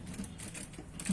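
A sewing machine runs a quick, steady burst of stitching around the round edge of a Patiala salwar, its rapid mechanical rattle close and continuous for about a second.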